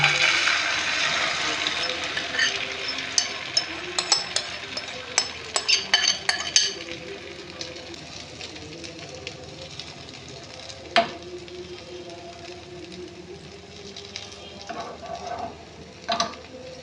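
Hot oil sizzles loudly as a Maggi noodle batter mixture hits the pan, then the hiss settles into a quieter low-flame fry with a few scattered utensil clinks.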